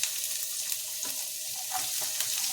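Onion, green chili and bitter gourd sautéing in a pan, a steady soft sizzle of frying with faint stirring scrapes, close and alone.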